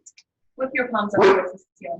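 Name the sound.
dog barking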